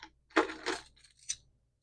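Keys jingle and clink as they are handled from a Coach Rowan handbag, with two quick rattling bursts and then a lighter metallic tap, close and fairly quiet.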